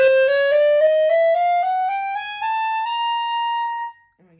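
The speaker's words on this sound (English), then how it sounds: "Then we're on the B, and that's called the clarion register." A clarinet plays a sustained B in the clarion register, a single clear tone that slides slightly upward in pitch and holds for about four seconds before stopping, solo with no talking.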